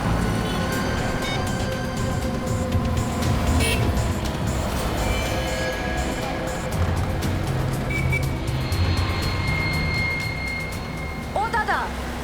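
A car driven along a road hums steadily with traffic noise and a faint horn, the engine and road rumble continuous throughout, with someone talking briefly over it.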